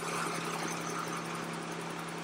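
An electric motor hums steadily at a constant pitch with a buzzing electrical drone, running continuously without a clear stop within the short stretch.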